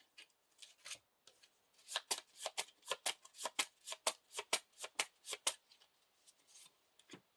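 Cards from the Lord of the Rings living card game are shuffled into an encounter deck, a quick run of crisp riffling bursts in steady rhythm, close and quiet, with no voices.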